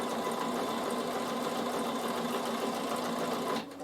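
A Bernina sewing machine stitches two patterns into fabric for a storage box, giving a steady, close, continuous mechanical whir that cuts off just before the end.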